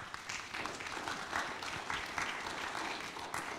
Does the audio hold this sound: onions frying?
no